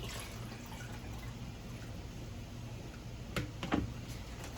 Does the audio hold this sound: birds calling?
no